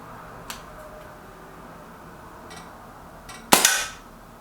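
Walther Rotex RM8 air rifle fired at a paper target: a couple of faint light ticks, then one sharp, loud crack with a short fading tail near the end, no talking.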